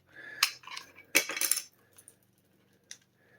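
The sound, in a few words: loose debris rattling inside plastic controller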